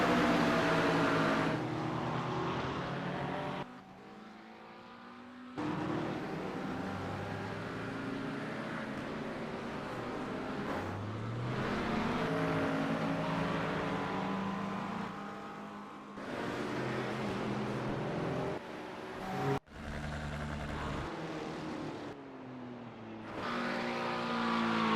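McLaren race cars lapping Daytona in a racing game, with a continuous loud engine whine rising and falling through gear shifts and passing cars, brief drops in volume along the way.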